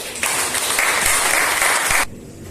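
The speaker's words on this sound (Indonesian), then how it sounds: "Yang pasti mulai dari tepuk tangan" A classroom of Indonesian-language students claps together at the start of a practice teaching lesson. It is a loud, dense burst lasting about two seconds, then it cuts off sharply.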